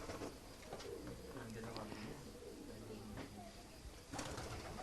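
Tumbler pigeons coo faintly in a noisy loft, low soft calls rising now and then beneath people talking nearby.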